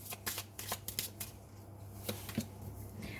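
Tarot cards being shuffled by hand during a reading, giving quick crisp riffles and soft flicks in close, uneven bursts with no talk.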